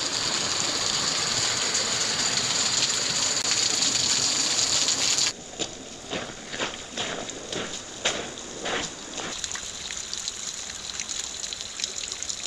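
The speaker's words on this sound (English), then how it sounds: "The mini waterfall. It's a pretty amazing place." Water pouring down a small mini waterfall at Gold Strike Hot Spring, a steady close rushing splash that drops in level midway, with a few sharp clicks and knocks over the flow.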